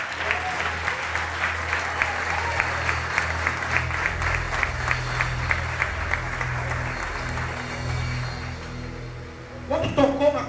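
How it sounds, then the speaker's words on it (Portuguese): A congregation at a church service applauds steadily for several seconds, a dense wash of clapping that thins toward the end, where a few louder, closer claps and some stirring cut through. "Aplaude esse Deus todo lindo."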